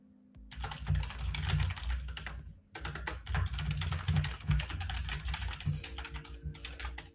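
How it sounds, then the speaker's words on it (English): Fast, continuous typing on a very loud computer keyboard, the dense clatter of keystrokes running steadily throughout with a short pause partway, close and prominent with no talking. "I know the keyboard's super loud."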